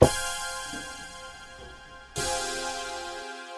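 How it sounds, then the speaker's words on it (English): A poly synth patch called Wavy from the Expand instrument plays a sustained bright chord that swells and fades, then strikes again sharply and holds, alone with no voices. "This is just a poly synth."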